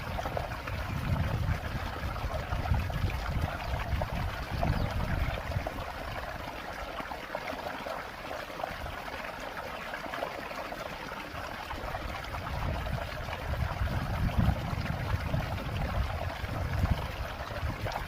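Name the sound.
pouring liquid jeevamrutham mixture into drum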